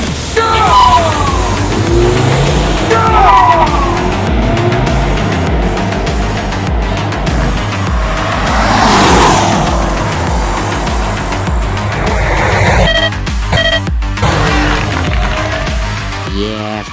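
A BMW 320i and a Mercedes C200 launch side by side from a standing start, engines revving hard and rising through gears, loud and close, then tire and wind noise as they pull away.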